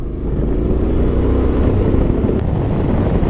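Engine of a 2024 Honda X-ADV DCT 750 scooter on the move, a steady low rumble with wind noise throughout and no voices.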